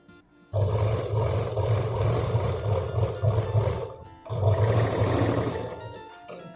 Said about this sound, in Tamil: சிப்பு மேலே இங்கிருந்து இங்கே வரைக்கும் ஒரு தையல் போட்டு எடுக்கலாம்.